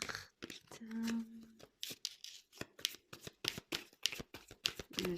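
Tarot cards shuffled and drawn, a steady run of quick papery riffles and snapping flicks close by, with a brief low hum early on and no talking.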